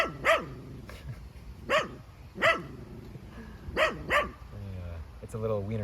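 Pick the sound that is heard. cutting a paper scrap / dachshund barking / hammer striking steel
dachshund barking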